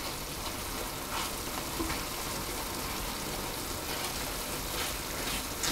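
Apple filling cooking in a pan after cinnamon is sprinkled in and stirred, giving a steady, hissing sizzle throughout with faint stirring strokes now and then, close and even, without talk.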